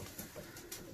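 A male racing pigeon in a breeding loft gives a few soft coos close by against a background of other birds.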